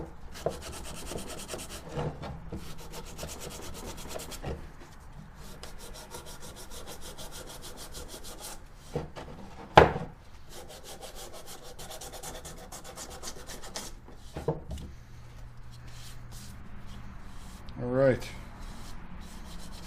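Light scraping and rubbing on a turned acrylic and cedar bowl, a soft, close, steady abrasive texture with a few sharper knocks and scuffs along the way.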